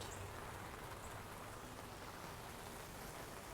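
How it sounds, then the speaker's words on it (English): Dense, steady rain pours down without a break, heard from under an umbrella outdoors, a continuous broadband hiss of drops striking surfaces all around, with no voices. "Oh, here comes the rain now. I hope I'm under my umbrella enough. Oh, I hear it. It's pouring."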